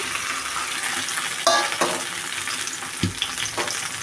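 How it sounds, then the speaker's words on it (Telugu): Chopped okra dropped into a tablespoon of oil in a pan and frying, a steady close hiss with a few sharp spatters and pan knocks. "కట్ చేసి పెట్టుకున్న బెండకాయల్ని ఇలా ఆయిల్లో వేసి"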